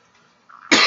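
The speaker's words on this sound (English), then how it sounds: "I'm coughing. I don't know why I'm coughing" A single sharp, loud cough from a man close to the microphone, preceded by a brief throat sound.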